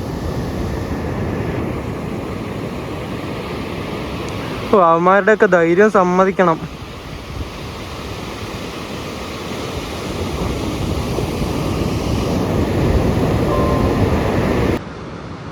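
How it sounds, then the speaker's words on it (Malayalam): Sea waves crash and surge at Varkala beach in Kerala, a steady broad roar with wind on the microphone, while someone speaks briefly partway through. "തിരമാല വരുന്ന നോക്ക്"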